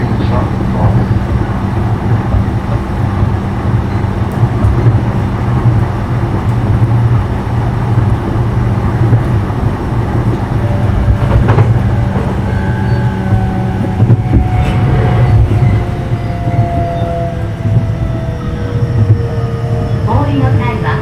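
A JR Ome Line E233-0 series electric train with Mitsubishi IGBT traction control runs steadily, recorded from inside the carriage: a constant loud rumble of wheels on rail, with motor whine tones rising and falling partway through.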